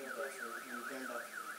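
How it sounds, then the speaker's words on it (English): A white car's alarm sounds while the car sits drowned in floodwater, a repeating warbling electronic whoop that rises and falls in a steady cycle, moderately loud and continuous. "alarm of my car went on now"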